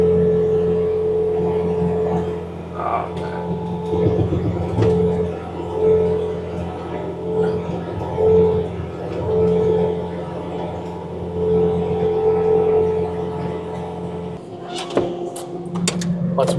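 Bobcat T66 track loader running a snowblower attachment to clear snow, a close steady engine hum with a sustained whine, periodic surges and clunks, and sharp knocks near the end.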